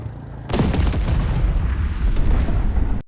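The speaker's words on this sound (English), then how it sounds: "a mine explosion destroyed the leading vehicle." A mine blows up under the lead vehicle of a convoy, a sudden heavy boom that swells into a dense, loud rumbling roar lasting a few seconds before cutting off abruptly.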